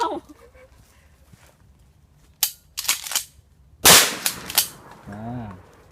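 Shotgun shots at a range set in a forest, a few sharp loud blasts ringing out close by among quieter gaps, followed by a person speaking.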